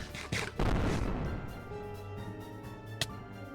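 Cannon fire in the game Architects Exodus: one loud, close boom with a rumbling tail that fades slowly, then a single shorter sharp crack, with no speech.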